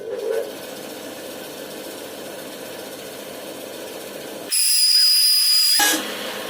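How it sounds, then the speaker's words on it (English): A Metabo bandsaw makes a test cut, giving a steady mid-level running hum that jumps to a louder, brighter whine for about a second near the end, then settles back. "Okay, now we are going to do one test cut to see how the bandsaw is working."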